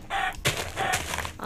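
Chickens in the Minecraft Galacticraft video game give short repeated clucks, a close, fairly loud burst of several bird calls with brief gaps, no talking.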